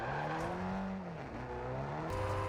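A car drives past in the Call of Duty Warzone DMZ video game, a fairly quiet engine drone rising and falling in pitch over about two and a half seconds.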